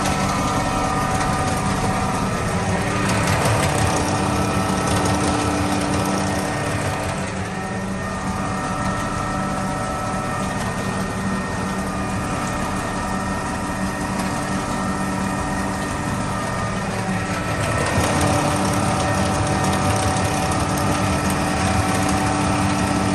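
A cold tractor engine runs in a barn where cows are being fed, giving a loud, steady mechanical drone with a constant hum that carries on throughout, and no one speaks over it.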